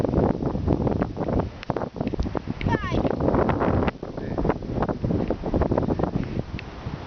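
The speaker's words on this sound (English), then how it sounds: "Wow, that's pretty windy." Gusty wind buffets the microphone at a flooded golf course in Bury, England, a steady low roar running under people talking throughout.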